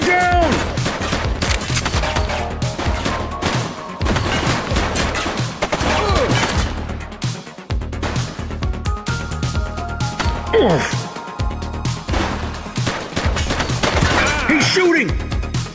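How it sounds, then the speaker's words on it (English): Gunfire in The Precinct, a police video game, comes as loud dense volleys of rapid shots with crashes and impacts over game music, broken by a few brief gaps, with voices shouting over it. "He's shooting!"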